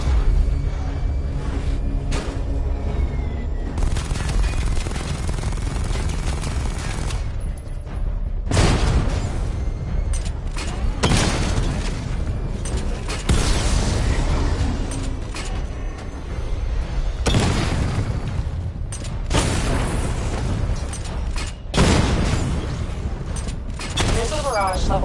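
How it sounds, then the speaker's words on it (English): Weapon fire and booming missile-barrage explosions in a Batman Arkham game come in heavy, repeated bursts over a steady mechanical rumble, with a synthetic announcer voice speaking at times. "Destroy targets to charge up weapon energy and activate missile barrage"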